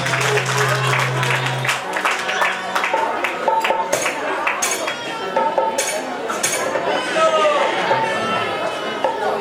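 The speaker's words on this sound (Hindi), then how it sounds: "मंच पर एक बार अरविंद भाई जी के लिए ताली बजा दो सब गोटे" A crowd at a stage event claps in scattered, uneven bursts while people chatter loudly around it, with occasional clinks of dishes and a sustained tone at the start.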